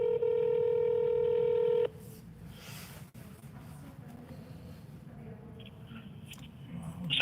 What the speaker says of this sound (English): I'm guessing Ed's not going to answer his phone